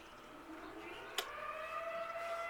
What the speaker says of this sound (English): that siren lets the volunteer firefighters know that there's a fire in the area